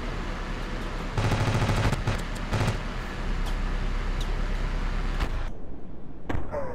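Missile blasts and rapid bursts of gunfire in a Ravenfield battle on Hoth, a dense rattle of shots mid-clip over a constant rumbling din, with scattered sharp impacts afterward.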